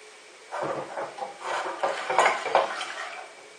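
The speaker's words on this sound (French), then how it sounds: "Il faut bien mélanger parce que sinon vous obtiendrez des grumeaux" A spoon or whisk works milk into béchamel sauce in a pan for lasagne, with a quick run of close scraping and clinking strokes against the metal and no voices.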